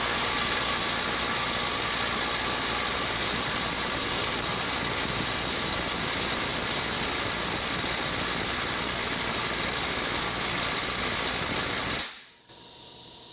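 Snap-on 18V impact wrench straining against a fastener at 300 foot-pounds, a steady close, loud hammering whir held for about twelve seconds before cutting off abruptly, no talking.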